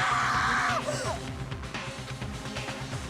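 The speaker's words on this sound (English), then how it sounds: "a wild, almost primeval scream escaped from my mouth" A Danganronpa game character lets out a loud, strained scream that rises and bends in pitch, then trails off into busy background game music and effects.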